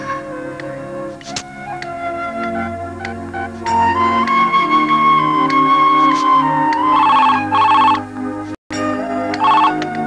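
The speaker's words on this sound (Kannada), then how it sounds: "ಮನೇಲಿ ಯಾರು ಫೋನ್ ಲಿಫ್ಟ್ ಮಾಡ್ತಾ ಇಲ್ಲ" A telephone rings repeatedly in a steady electronic pattern, loud and close, continuing for several seconds with no one picking up.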